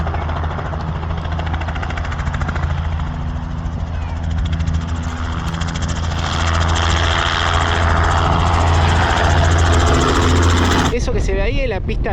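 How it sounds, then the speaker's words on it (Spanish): A tour helicopter taking off at Ushuaia's old airstrip, its engine and rotors whining and roaring steadily, growing a little louder, with a loud rustle near the end. "también acá despegan los helicópteros que llevan a hacerte diferentes tours"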